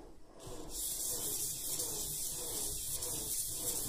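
Sandpaper rubbed back and forth over an old metal lock, a steady close scratchy abrasion that runs continuously after a brief quiet start, with no talking.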